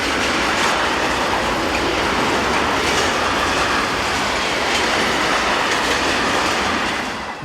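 Locomotive 1116 101 hauls a southbound train of tank wagons past at close range, making a loud, steady rumble and rattle of wheels that carries on for the whole stretch.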